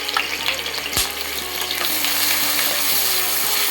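Onion paste sizzles loudly as it drops into hot oil for a matar ghugni, a broad steady frying hiss with a sharp splash of impact near the start, then a continuous close crackle. No one speaks.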